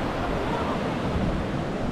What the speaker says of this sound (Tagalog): Tapos ang laki ng alon